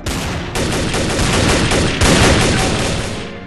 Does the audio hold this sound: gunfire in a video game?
yes